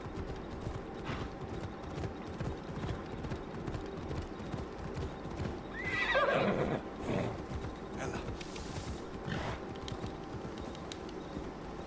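Horse hooves clop steadily in Assassin's Creed Odyssey, with a short neigh partway through, set against continuous game ambience and no voices.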